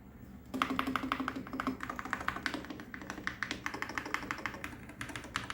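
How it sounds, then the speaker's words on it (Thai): Keys clack steadily on an Ajazz AK680 MAX HE magnetic-switch keyboard resting directly on a desk without its feet, a close, crisp run of quick taps and thocks with no one talking. "เรามาทดสอบเสียงปุ่มกัน"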